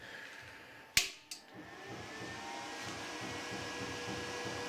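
A FoxWeld UNO TIG 200 DC PULSE welding machine switches on with a sharp click and a second smaller click, then settles into a steady whirring fan hum that keeps running.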